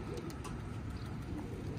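Pigeons in a coop, looking as if they may be falling ill, coo softly and repeatedly at a distance, faint over a low background hum.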